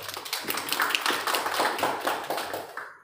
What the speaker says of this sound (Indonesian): Kita beri aplaus untuk pencapaian ini.